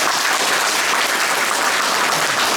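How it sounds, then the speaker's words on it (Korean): Crowd of farmer leaders clapping at a Korean election endorsement ceremony for a candidate; thick, even applause throughout, close and loud, with no voices rising above it. "박수 한번 쳐주시죠"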